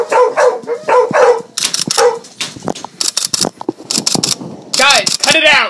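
Several dogs bark and yip at once in a lively household at Christmas, a loud near chorus of rapid overlapping barks with high whining yelps toward the end, while a person shouts over them.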